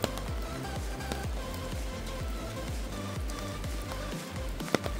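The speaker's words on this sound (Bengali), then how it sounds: "জানি না আজকে কখন বৃষ্টি কমবে।" Steady rain at the gate of Kandadhar waterfall, Keonjhar, under overcast skies: a close pattering of drops landing on a surface, with one sharp louder tap near the end and no voices.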